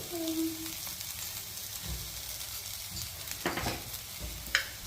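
Prawns frying in a pan with ginger-garlic paste, turmeric and chilli powder for biryani: a steady low sizzle with a few clanking stirs of a spoon against the pan, close by, with no talking.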